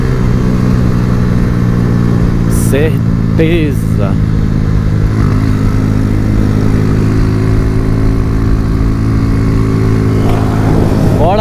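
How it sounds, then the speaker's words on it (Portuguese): Honda Fan 125 motorcycle ridden fast with a misfiring engine, its loud steady drone running throughout, with wind rush and someone speaking over it. "Mas a moto tá dando falta"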